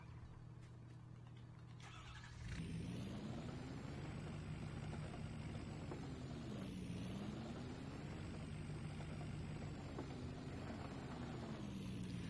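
Truck engines idle steadily in Farming Simulator 19 at a landscaping shop, a quiet room tone first giving way to a continuous low drone with slowly rising and falling pitch, no talk.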